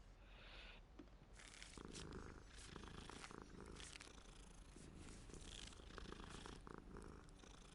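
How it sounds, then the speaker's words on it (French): A cat purring in the video game Hogwarts Legacy, a steady close rumbling purr that continues throughout, quiet overall with a dense noisy background. "ça faisait longtemps que j'avais pas vu un chat"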